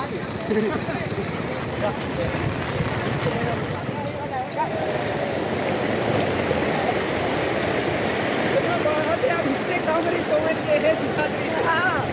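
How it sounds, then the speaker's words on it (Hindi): A flooded village stream rushes hard beneath Rajiya bridge, a steady loud roar of churning water filling the whole stretch while people talk nearby. "जबरदस्त पानी"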